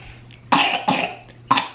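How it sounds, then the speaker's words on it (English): A child coughs three times in quick, harsh bursts, close and loud, with a low steady hum underneath. "She says good and then starts coughing up a lung."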